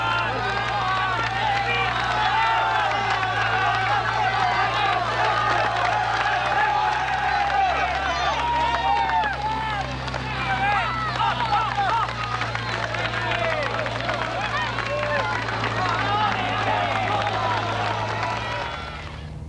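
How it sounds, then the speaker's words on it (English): A roadside crowd cheers, claps and chatters continuously as riders pass during the 1988 Kellogg's Tour of Britain cycling race, a steady loud roar of voices with engine hum beneath. "Well, here are the crowds in Britain"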